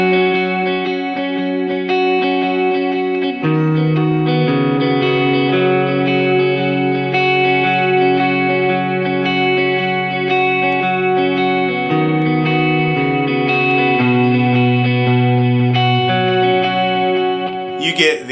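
An electric guitar played with a clean tone, light reverb and dotted-eighth delay rings out sustained chords that shift every few seconds, echoing repeats blending into a smooth wash, alone without voices.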